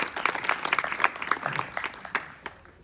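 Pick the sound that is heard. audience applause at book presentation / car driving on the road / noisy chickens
audience applause at book presentation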